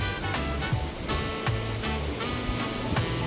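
Ocean surf rolls in steadily beside an oceanfront condo in Kona, Hawaii, a continuous soft wash of waves with faint periodic swells, heard alone with no talking.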